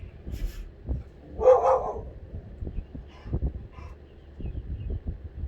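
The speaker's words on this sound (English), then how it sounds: "That's a dog." A dog barks a few times, with a short loud yelp-like outburst near the middle and softer woofs and thumps around it, close by, with no talking.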